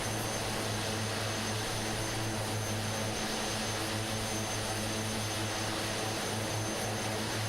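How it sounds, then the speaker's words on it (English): Jet aircraft noise in Microsoft Flight Simulator near Caribbean islands: a constant loud, broadband engine roar with a low droning tone, steady and unbroken throughout with no voices. "There goes that jet."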